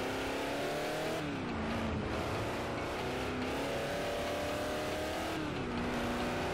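A race car engine drones continuously in Forza Motorsport 4 on Xbox 360, its pitch climbing steadily as it accelerates and dropping briefly at each gear shift, loud and constant throughout.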